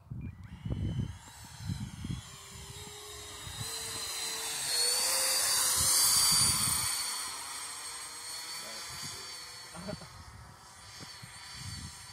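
Freewing Mirage 2000 80mm electric ducted-fan RC jet flying at speed and at high angle of attack, giving a steady high-pitched whine that swells as it passes near, with a few low thumps and bumps underneath.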